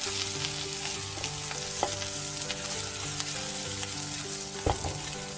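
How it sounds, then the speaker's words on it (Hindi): Vegetables for veg chow mein sauté in a hot pan, a steady close sizzle with repeated scraping and stirring clicks of the spatula throughout. "और थोड़ी और 2 मिनट सॉटे करेंगे"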